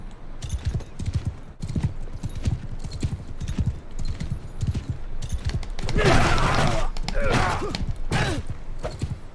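Horse hooves gallop in steady, rapid clip-clop through a Bannerlord battle, loud and close, with a burst of louder clash and noise midway and no clear talk over it.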